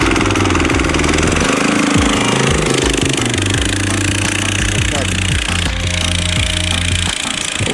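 A homemade vehicle with a mechanical reduction gearbox and power take-off runs its engine on a test drive, giving a loud, steady, throbbing drone with shifting mechanical rattles and pitch changes.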